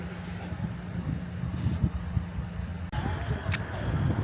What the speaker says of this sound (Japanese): 今エンジン音を響かせているのは陸東線の列車です